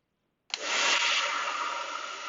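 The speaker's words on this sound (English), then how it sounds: "Now let's try the hairdryer test" A hair dryer switches on abruptly after a moment of silence and blows with a loud, steady whooshing whine.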